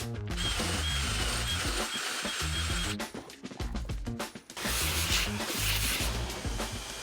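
A steady mechanical whir of a drill boring hinge holes in wood through a Blum hinge jig for camper van cabinets, running continuously with a brief dip in the middle before resuming at full strength.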